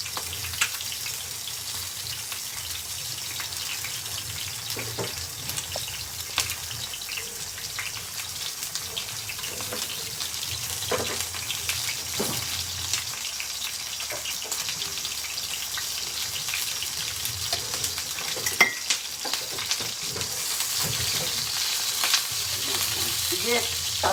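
Fish frying in hot oil makes a continuous crackling sizzle with scattered pops and spatters, holding steady throughout at moderate, close range, with no talking.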